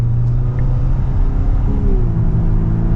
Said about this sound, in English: I think that is the piped in sound with the exhaust there